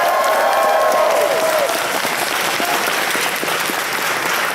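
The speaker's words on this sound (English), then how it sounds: "Can we do a round of applause for the whole team?" Audience at an anime convention opening ceremony claps steadily for the event team, a dense, sustained burst of applause filling the room throughout, loud and close.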